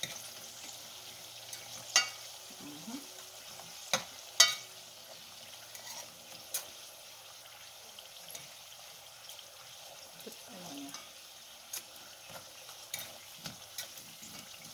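Thin slices of dasheen frying in hot oil for chips alongside Jamaican curry goat, a soft continuous sizzle with occasional sharp pops and crackles, fairly quiet and steady with no talking.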